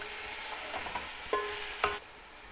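Masala frying in ghee in a pot for matar qeema, a soft low sizzle broken by a few sharp metallic clinks and scrapes of stirring, close and fairly quiet.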